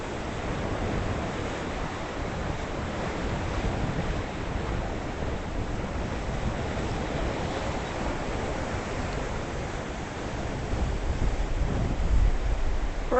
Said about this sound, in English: More waves.